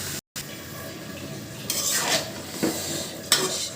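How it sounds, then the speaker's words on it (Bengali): Meat and bottle gourd curry, already fried and salted, being stirred and sautéed in a pan: a close spoon scraping against the pan over a soft sizzle, with a brief dropout near the start and a few louder strokes later. "তরকারিটাকে ভালো করে কষিয়ে নেবেন"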